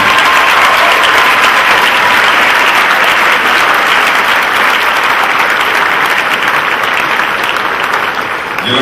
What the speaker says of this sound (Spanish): Otro aplauso para ellos.